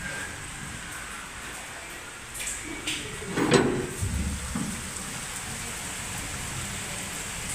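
Steady rain falls in a rural Odisha village, a constant soft hiss throughout with a brief knock and clatter near the middle, heard without any talking.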